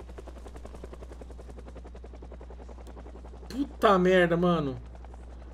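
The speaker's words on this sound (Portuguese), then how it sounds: "Porque esse helicóptero vai atrair zumbi pra cá" Helicopter in the zombie survival game Project Zomboid, a steady rhythmic rotor chop running throughout at moderate level, with a man briefly exclaiming over it near the end.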